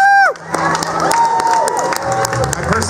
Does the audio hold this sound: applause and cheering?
yes